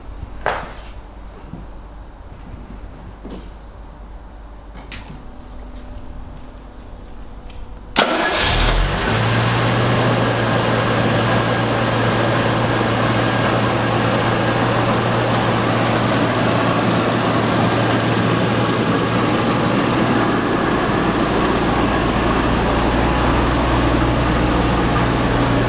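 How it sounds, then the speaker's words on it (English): A Jaguar XJS V12 cranks briefly and fires up, then settles into a loud, smooth, steady idle that continues for the remaining seventeen seconds, heard close with no talking. "When you hear a V12 fire up"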